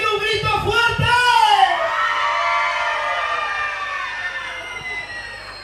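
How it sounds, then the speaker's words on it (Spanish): At a Children's Day gathering, a crowd of children lets out a loud, sustained, high-pitched shout together, with the massed voices ringing out strongly at first and then slowly tailing off. "¡Quiero un grito fuerte!"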